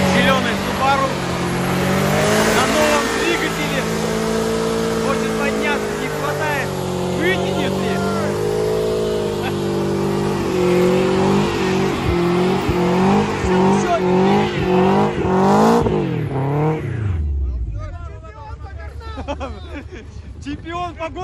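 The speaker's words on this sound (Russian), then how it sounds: "Итак, Алексей, канал 300+, на своей знаменитой зеленой Субару." A green Subaru revs hard and strains up a hill in a hill-climb event, its engine note rising and falling loudly and continuously, with a roaring burst that drops away near the end while people shout nearby.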